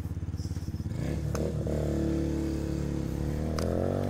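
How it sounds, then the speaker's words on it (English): A Brixton Felsberg 125 motorcycle on a ride, heard close as a pulsing idle that opens into a steady, droning engine note, with a brief clatter and a rising rev near the end. "because it's Sunday and I'm driving my motorcycle, going to the car wash"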